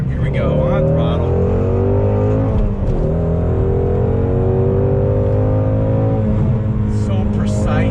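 A 2018 Ford Shelby GT350 on a track, its engine droning loudly and steadily under throttle, the pitch climbing through the run with a brief dip near the middle, close and continuous for the whole stretch.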